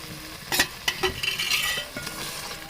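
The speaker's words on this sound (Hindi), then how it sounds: "थोड़ी देर हम इसकी भुनाई करते हैं, तकरीबन 3 से 4 मिनट के लिए।" Tomatoes and green chillies fry in ghee in a pot of beef pulao, with a steady sizzle broken by several sharp scrapes and clinks of a spoon stirring against the pan, close and moderately loud.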